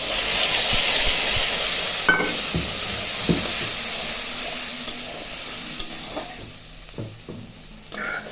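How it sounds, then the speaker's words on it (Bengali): Spice paste hits already-fried potatoes in a hot pan, giving a steady loud sizzle with occasional stirring clicks and scrapes throughout. "আলুটা ভাজা হয়ে গেছে, এখন মশলাটা দিয়ে দিচ্ছি।"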